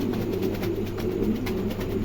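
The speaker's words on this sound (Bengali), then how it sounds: "চমৎকার এক জোড়া কবুতর" Pigeons of a pair at a pigeon market coo softly and steadily, a low murmuring call repeated under a constant background hum, no one speaking.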